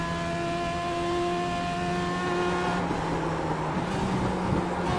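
Race car engine in the iRacing sim droning loud and steady with strong harmonic whine, then a gear shift around the three-second mark drops the pitch into a rougher, lower rumble that carries on to the end.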